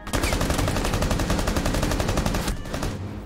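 Rapid automatic gunfire in Rainbow Six Siege on the Emerald Plains map, a loud continuous burst of dense repeated shots lasting about two and a half seconds before breaking off into a quieter tail.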